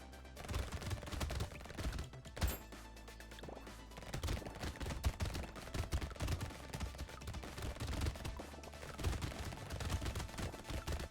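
Rapid SMG fire in Brotato, a dense continuous rattle of shots mixed with game effects and music throughout, with a few louder bursts standing out.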